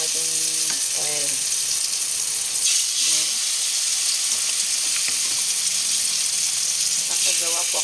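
Steady loud sizzle of eggplant frying in a little cooking oil, a constant bright hiss throughout, with someone talking over it at intervals.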